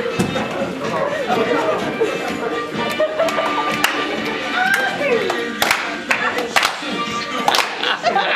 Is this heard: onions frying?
no